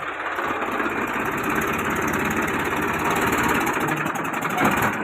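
A tractor engine idling near a muddy village track, a steady close low rumble with knocking vibration running unbroken throughout, with no talking over it.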